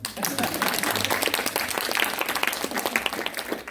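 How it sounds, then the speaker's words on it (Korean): A welcoming round of applause from an audience at a college talk concert on social welfare careers, moderately loud scattered claps with individual hand strikes standing out, a voice speaking over parts of it. "우리 윤현희 강장님께 다시 한번 환영의 박수를 좀 부탁드리겠습니다."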